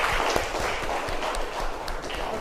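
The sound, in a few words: classroom applause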